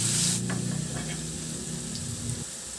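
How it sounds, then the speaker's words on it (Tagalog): Garlic sautéing in oil in a wok, a soft steady sizzle with faint scraping of a utensil, close and continuous without talk. "Sa kawali naman, maglagay ako ng mantika at igisa ko na rin yung bawang"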